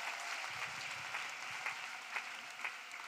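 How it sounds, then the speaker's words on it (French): A church congregation at a prayer and intercession service claps for Jesus, giving steady, fairly faint applause from a crowd with no speech over it. "Let us clap for Jesus"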